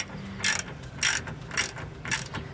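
Ratchet wrench tightening a Subaru suspension bolt near the ball joint, four quick bursts of clicking at a steady rhythm, close and fairly loud.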